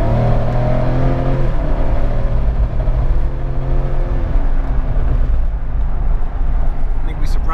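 Jeep Wrangler JK with a GM L86 V8 and 8-speed accelerating onto a freeway, a loud engine roar rising and shifting through gears, with talking over it.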